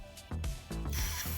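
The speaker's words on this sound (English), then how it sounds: "So I'm gonna spray it right all over here." Carb cleaner sprays through a straw nozzle onto a Briggs and Stratton carburetor in close, hissing bursts: two short blasts, then a longer sustained spray, with no talking.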